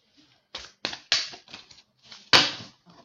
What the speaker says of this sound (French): Je refais un petit coup de mélange parce qu'il y avait une carte.